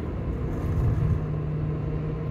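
A turbocharged Volvo V70 accelerates uphill under boost, heard from inside the car as a dense, steady low engine rumble with road noise that swells slightly midway.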